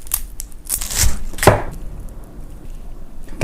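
A knife chopping onions on a board, a few close, irregular thuds and scrapes in a short burst with no talking.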